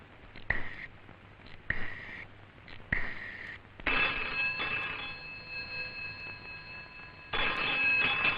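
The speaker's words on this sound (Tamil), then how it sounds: "பெல் அடிக்குது." A telephone bell rings in three short bursts, then rings continuously for several seconds, pauses briefly and starts ringing again, clear and close with no talking.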